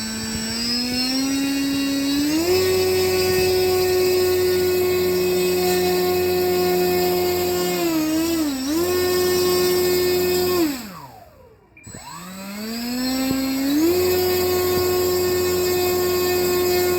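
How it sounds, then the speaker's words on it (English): An electric motor on an RC P-47 model plane, powered by a 3-cell 3200 battery, whines steadily and loudly, ramps up in pitch, dips twice while throttling down and back, then spins up again. No one speaks. "I'm out here going to run the motor"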